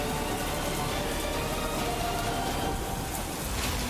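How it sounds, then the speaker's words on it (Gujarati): Heavy downpour in Kalol, Panchmahal, Gujarat, a dense, loud and constant hiss of rain pouring down without a break. "પંચમહાલના કાલોલમાં ધોધમાર વરસાદ વરસ્યો છે"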